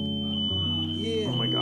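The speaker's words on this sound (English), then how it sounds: "Oh, that's our fire alarm." An indoor fire alarm sounds as a continuous high electronic tone, loud and steady throughout, layered over lower shifting tones and voices.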